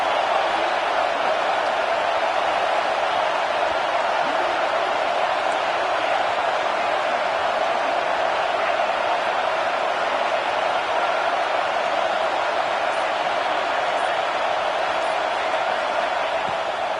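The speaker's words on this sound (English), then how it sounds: "The Tide crowd rolling noise down onto Saban Field on third down." A loud, steady wash of Alabama crowd roar fills the stadium at Saban Field on third down against Penn State, sustained without break, a dense wall of many voices with no single voice standing out.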